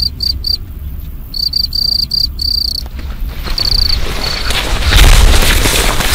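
Crickets chirp loudly and close by in a rice field, shrill pulsing trills in bursts, with a second cricket fainter further off, over outdoor rumble and a low thump near the end.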